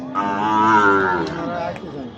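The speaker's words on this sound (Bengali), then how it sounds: "এত বড় সাইজের গরু ভাই" A large six-tooth bull lows once at close range, a long, loud, drawn-out moo rising and then falling away, with no talk over it.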